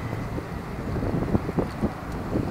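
Outdoor wind buffeting a microphone, gusty low rumbling with irregular thumps and swells, moderately loud and continuous with no clear voices.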